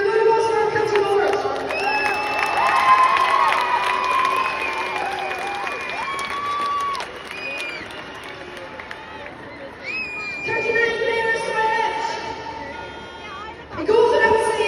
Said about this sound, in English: Give a good applause for our county board.